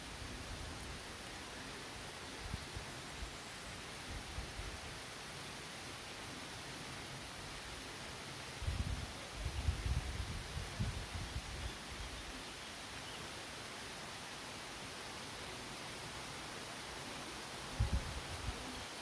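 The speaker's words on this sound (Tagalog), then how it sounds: "Ayan, mahangin guys, mahangin." Wind moves steadily through green tree leaves outdoors on a rainy day, a soft continuous rustling hiss with a few gentler gusts swelling now and then, fairly quiet and with no voices.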